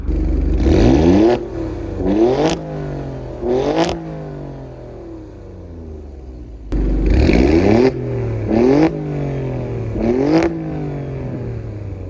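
An Alfa Romeo Stelvio Quadrifoglio's twin-turbo V6 in race mode blips through a series of sharp, loud revs, each rising and falling quickly, in two clusters separated by idle.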